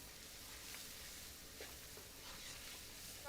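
Curry powder stirred into a hot pan of vegan Indo-Chinese hakka noodle base, giving a steady, faint sizzling hiss with a few soft stirring scrapes, no talking.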